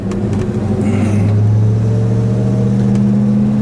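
A 1966 Dodge Charger 426 Hemi V8 idles loudly with a deep, throbbing exhaust rumble through stock-style mufflers, steady and close throughout, with a slight rise in revs early on.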